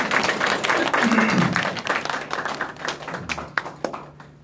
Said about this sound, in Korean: 감사와 격려의 박수를 한번 쳐주세요.